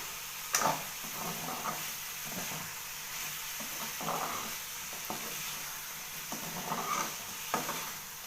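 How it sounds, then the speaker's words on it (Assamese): Goat mutton and potatoes fry in a pan over a medium gas flame for an Assamese curry, a quiet steady sizzle broken by periodic scraping stirs, close up with no talking. "মাংসখিনি আমি ভাজি আছোঁ।"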